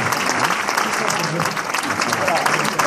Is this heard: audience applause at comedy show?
yes